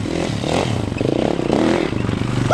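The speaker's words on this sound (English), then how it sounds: "We're gonna rip the motorbikes." Several motorbikes out on a New Zealand winter hunting trip rev hard and pull away close by, engines roaring and wavering with loud throttle bursts, a brief high squeal near the end.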